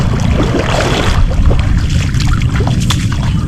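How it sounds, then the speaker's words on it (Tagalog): A strong current of floodwater rushes past in a loud, continuous churning roar, close by and steady, with no voices over it. "ang gidanan yung tubig dito, malakas pa rin yung agos."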